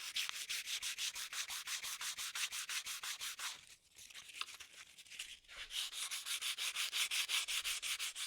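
An ebonized oak knife handle coated in a super glue finish is sanded by hand in fast, even back-and-forth strokes, a close, rhythmic scratchy rasp. It pauses briefly midway, then resumes at the same brisk pace.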